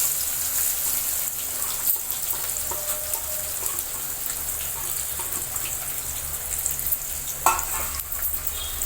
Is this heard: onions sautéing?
yes